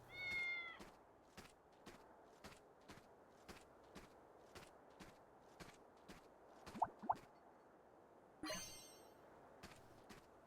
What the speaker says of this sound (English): Oh, Specky, look, it's a cat